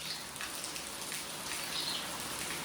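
Rain pours down in a continuous close hiss of drops striking surfaces, with no one speaking over it.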